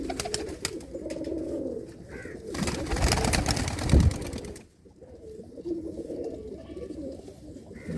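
Loft pigeons coo in a low, repeated burble close by, with a brief louder rustle or flutter midway before the cooing resumes alone.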